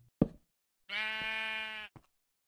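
A single sheep bleats in a video game, a sustained, clear, harmonic call lasting about a second, preceded by a sharp knock-like thump and followed by a faint tap.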